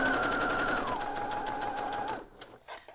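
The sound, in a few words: sewing machine chain stitching denim quilt pieces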